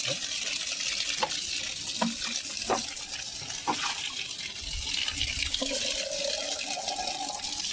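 A water softener runs its backwash, with salty water rushing and gurgling steadily close by and a few sharp clicks and knocks along the way.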